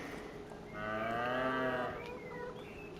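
Cows moo in the farming video game Farming Simulator 25: one long, drawn-out moo from a single animal, moderately close and fairly quiet, with no talk over it.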